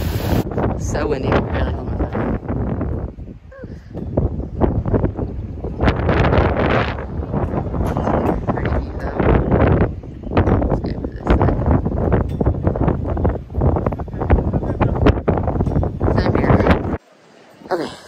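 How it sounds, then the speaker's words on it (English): Strong wind buffets the microphone in loud, continuous gusts at a high lookout in Pigeon Forge, with voices faintly audible underneath. "It is so windy."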